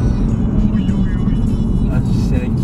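An Audi RS3 engine rumbles steadily and loudly from inside the car as it accelerates, a dense low-pitched drone filling the short stretch while someone talks over it.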